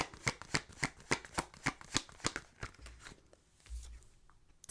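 Tarot cards are shuffled close by in a quick, even run of crisp riffling snaps, about a dozen sharp bursts that stop near the end, followed by a couple of soft thuds as cards are drawn; no one speaks.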